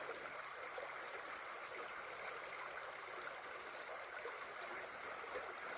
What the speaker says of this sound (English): This is the creek I get to cross in various parts of the trail.